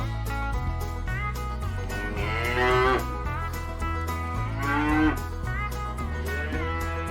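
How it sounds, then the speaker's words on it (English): A cow moos loudly and close by in several long, drawn-out lowing calls over a steady low background, with no voices. "Cow."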